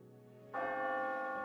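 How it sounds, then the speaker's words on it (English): A bell rings in the Cookie Run: Kingdom video game, striking once after a quiet low hum and then ringing on with a bright, sustained tone. "Ah, the bell."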